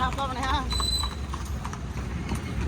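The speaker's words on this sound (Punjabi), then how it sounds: "ਰੇਵੀਆ ਚਾਲ ਵਾਲਾ ਘੋੜਾ ਇੱਧਰ ਜਾਂਦਾ" Rhythmic clip-clop of horse hooves walking on a hard surface, close by, under a voice talking, at a horse market in Jagraon.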